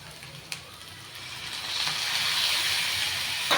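Tomatoes go into a pan of fried onions with a soft thump, and a frying hiss then swells and holds steady, fairly quiet and with no talk.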